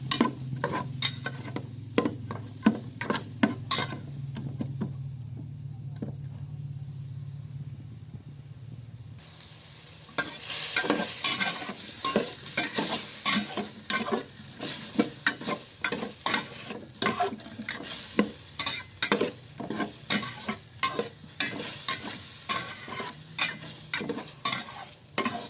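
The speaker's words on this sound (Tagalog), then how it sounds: "Lutuin lang natin ang sibuyas at bawang hanggang sa maging malambot na ito" Sliced onion and garlic sizzle in a pan while being stirred for mung bean stew with pork, with repeated scraping strokes and a steady hiss that grows louder and busier partway through.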